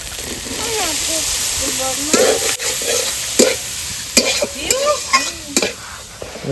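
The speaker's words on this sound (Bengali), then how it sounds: "সেই পনিরটাকে একটু ম্যাশ করে দিচ্ছি ভালো করে মশলা তো কষা গেছে এবারে পনিরটা দিয়ে দেবো" Mashed paneer goes into fried spices in a pan and is stirred, with a sizzle and repeated scraping, clattering strokes close by while someone talks over them.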